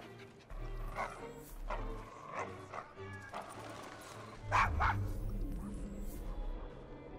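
A dog barks and whines repeatedly in a Victorian London street scene from the game Assassin's Creed Syndicate, with short yelps and throaty cries scattered across the moment alongside ambient game sound.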